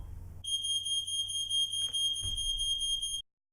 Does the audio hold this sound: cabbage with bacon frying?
no